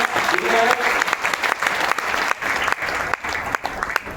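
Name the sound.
audience applause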